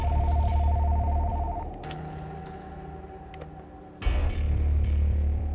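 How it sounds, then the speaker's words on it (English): A telephone dials an international number to Spain: a steady electronic tone at first, then a few faint clicks and beeps in a quiet room, with no one speaking. "How many goddamn numbers does it take to dial Spain?"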